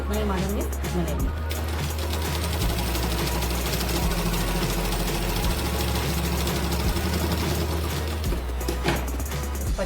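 An electric sewing machine stitches a blouse, its low motor hum running in steady bursts separated by short pauses, while someone talks over it.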